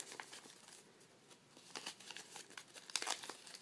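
A paper hexaflexagon being turned and folded close up, with soft crinkling and rustling that comes in short bursts, is quiet, and has no talking.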